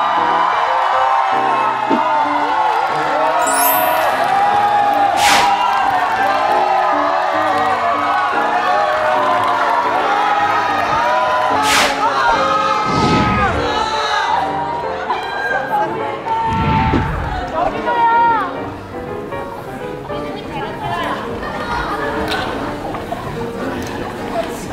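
A cinema audience at a movie stage greeting cheers and screams loudly and continuously, with whoops and overlapping voices in a packed theater.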